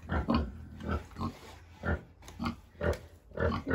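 Pigs in a pen grunt repeatedly in short, low, rhythmic bursts close by, with snuffling between grunts.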